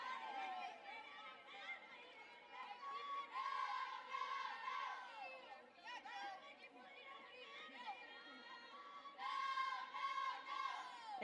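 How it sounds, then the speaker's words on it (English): Washington Huskies softball fans chanting and cheering in the stands during a college game against Oklahoma, a dense crowd roar of many voices with rising shouted bursts, steady and fairly loud throughout. "our favorite cheer from the Washington Huskies"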